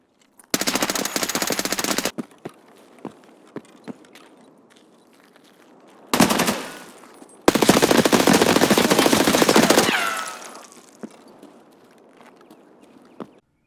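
Automatic gunfire in Escape From Tarkov: a long burst, a short burst and another sustained burst of rapid shots, loud and close, separated by quieter stretches of footsteps and faint ambient noise.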